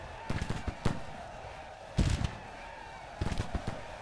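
An artillery battery in a Civil War strategy game at Fredericksburg fires in ragged clusters of sharp cracking shots, three separate volleys of several reports each, moderately distant over a low battlefield hum.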